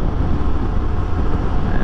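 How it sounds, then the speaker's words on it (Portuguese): Strong gust of wind hitting a rider on a touring motorcycle on the highway, a loud, steady, close rumbling roar of wind buffeting the microphone that continues throughout. "Uma rajada de vento muito forte."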